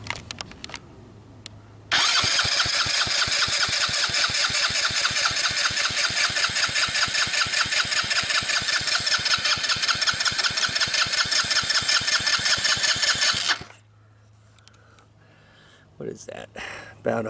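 A 150cc ATV engine cranks over on the starter during a wet compression test, a loud, steady, rapid chugging that runs for about twelve seconds before cutting off, with quieter background noise before and after.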